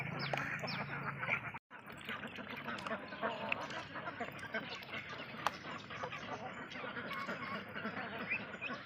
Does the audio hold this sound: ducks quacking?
yes